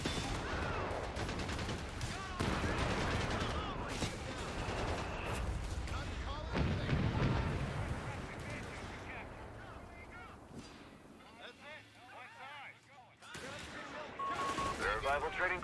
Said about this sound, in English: that mortar barrage is really handy